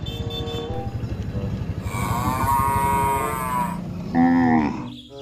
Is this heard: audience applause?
no